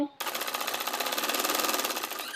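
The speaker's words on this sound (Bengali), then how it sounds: "তো এটাকে আমি এভাবে বরাবর সেলাই দিয়ে নেবো" An electric sewing machine stitches the hem of a printed three-piece kameez, giving a fast, even, rhythmic whir close up that starts abruptly after a brief voice and runs steadily.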